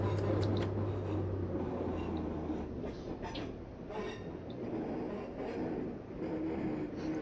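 An AP Class 142 train rolls into platform 7 at Newcastle in Train Sim 2020, with a steady low rumble of the train and faint squeals of wheels over the track as it slows under a voice.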